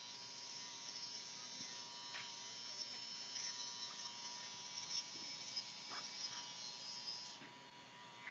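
Electric hair clipper buzzing steadily and faintly while detailing a mid fade haircut, with small scraping touches as the blades move along the hairline.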